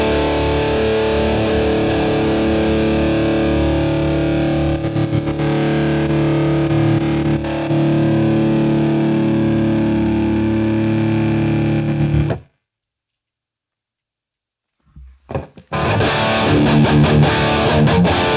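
Electric guitar through a BOSS GT1000 with EL34 amp simulation, heavily distorted chords ringing out loud and sustained, then a sudden stop into silence before a few picked notes and another burst of crunchy, saturated playing.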